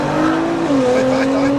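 A 700-horsepower Nissan GT-R pulls hard from inside the cabin, its engine droning loudly with a steady pitch that shifts once as it climbs, close and continuous.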